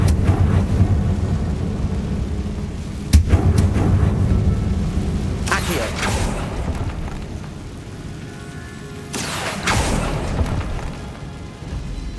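Confringo blasting spell going off in a Harry Potter video game, heavy booming bursts near 3, 5.5 and 9.5 seconds over a continuous rumbling backdrop of game ambience.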